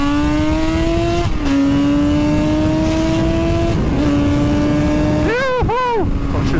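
A Suzuki RG500 two-stroke motorcycle accelerates hard through the gears, its engine note climbing steeply, dropping at each shift and climbing again, ending with a couple of quick revving blips; loud and close under wind rush.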